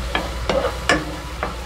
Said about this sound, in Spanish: Vamos a ir removiendo.